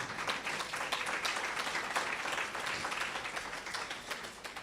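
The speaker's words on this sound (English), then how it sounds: "And can we give a round of applause?" An audience at a nursing school striping and award ceremony claps, a faint, continuous patter of many hands heard from a distance throughout.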